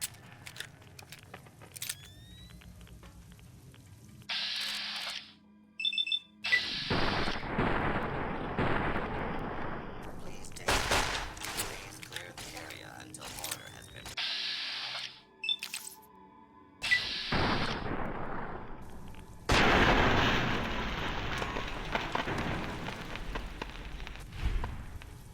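Explosions in the video game Fallout: New Vegas, a series of heavy booming blasts with rumbling, crackling tails, separated by short quiet gaps and electronic game sounds, growing louder and denser toward the end with no talking.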